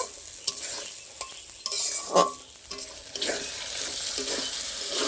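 Spice paste with ground poppy seed sautéing in a pan for paneer, a constant close sizzle broken by repeated scraping and clinking stirs of a spoon, a few louder bursts, no talking.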